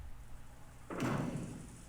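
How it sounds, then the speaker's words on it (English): A single car door opens with a soft thud partway through, followed by a fading rush of noise, used as a sound effect in an audiobook reading over a quiet background. "There was a sound and a car door opened."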